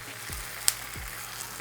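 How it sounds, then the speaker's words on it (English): Tofu fries in olive oil in a pan, giving a steady, close sizzle with soft bumps and a single sharp tick, and no one speaking over it. "I put a little bit more olive oil on top just so it'll help brown the other side, and we're going to flip all of these over."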